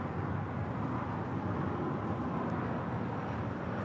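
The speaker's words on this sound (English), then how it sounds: "This is All Nippon Airways, Flight 126, coming in from Tokyo, Haneda on the 787-8 Dreamliner." An All Nippon Airways Boeing 787-8 Dreamliner arriving at LAX from Tokyo Haneda gives a steady, broad, low jet roar at a moderate distance, unbroken throughout.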